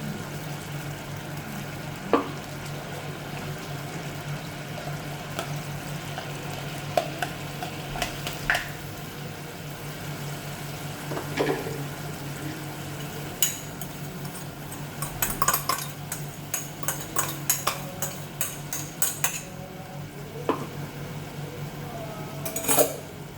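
Poppy seed paste frying in a pan, with a soft steady sizzle under scattered clinks and scrapes of a utensil stirring against the metal, the clatter growing busier toward the end.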